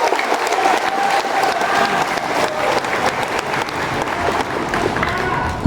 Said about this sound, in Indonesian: Aplaus untuk beliau